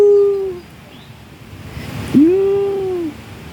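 A pet dog named Mocha, playing with a toy, lets out two drawn-out high whimpering whines, close and clear, separated by a quiet pause with light rustling.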